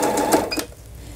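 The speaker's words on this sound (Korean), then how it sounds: "이제 실이 절단이 되는 거죠." A Lion E5100 household sewing machine stitches briefly, then its automatic thread cutter gives a short mechanical clack, close and clear, before the motor stops.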